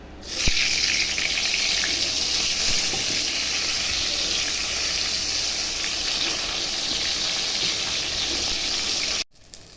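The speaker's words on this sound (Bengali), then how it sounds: "তেলটা দিয়ে দিচ্ছি, গরম হয়ে যাচ্ছে, এখন পটলগুলো ছেড়ে দিচ্ছি।" Pointed gourd (potol) dropped into hot oil in a home kitchen while cooking chicken curry: loud, dense, continuous sizzling and crackling that holds steady for several seconds before cutting off abruptly.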